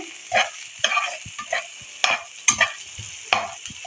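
Aloo matar chaat ingredients with chopped green chilli fry in ghee in a pan, a soft steady sizzle broken by repeated scraping stirs of a spoon, close and clear with no talking.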